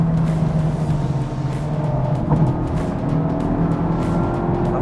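A Honda Civic Type R engine drones steadily from inside the cabin while the car cruises on the road, a continuous loud hum with no clear break for the gear change.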